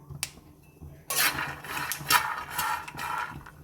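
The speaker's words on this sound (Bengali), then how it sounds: "বাদামগুলো কিন্তু খুব সুন্দরভাবে ফুটে উঠতেছে" Peanuts roasting and popping in a hot pan: dry crackling and scattered pops, starting faintly and then thickening into a steady, close rattle of small cracks.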